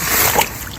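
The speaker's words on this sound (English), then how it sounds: "dumping the bag of sand inside the water bucket" Gemstone paydirt sand from a bag pours into a bucket of water, giving a short wet splash and slosh that stays steady and close before easing off.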